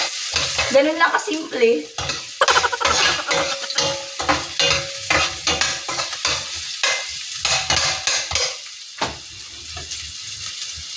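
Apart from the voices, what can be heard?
ginger sizzling while stir-frying for chicken curry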